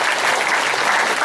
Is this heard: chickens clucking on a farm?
no